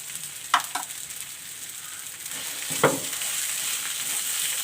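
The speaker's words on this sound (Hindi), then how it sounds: "हरी मिर्च डाल के थोड़ा सा हमें मज़ीद भूनेंगे हम इसे।" Green chillies frying with potatoes in a pan, a steady close sizzle with a couple of brief stirring scrapes and no talk.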